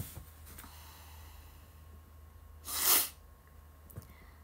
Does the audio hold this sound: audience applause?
no